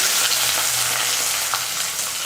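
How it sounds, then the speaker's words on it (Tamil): Mustard seeds, urad dal, curry leaves and onion frying in hot oil for a Tamil vegetable kootu, a steady, close and loud crackling sizzle throughout with faint pops and no talk. "எண்ணெய் காஞ்சதுமே கடுகு உளுந்து கடுகு பொரிஞ்சதும் கருவேப்பிலை வெங்காயம்"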